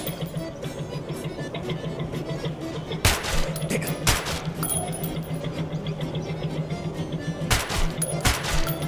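Gunfire in a video game gunslinging duel: a handful of sharp, separate shots cracking out over a steady game background hum, spaced irregularly with longer gaps between them.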